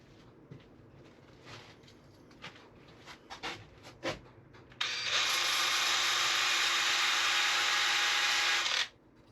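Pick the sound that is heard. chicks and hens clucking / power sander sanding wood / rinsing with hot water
power sander sanding wood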